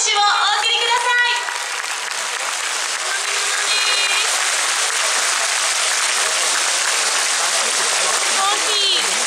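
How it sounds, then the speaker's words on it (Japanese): A festival crowd applauds after a Yosakoi group dance at Furusato Matsuri Tokyo, broad sustained clapping from many people, loud and even throughout, with brief musical tones at the start. "今一度大きな拍手をお送りください。"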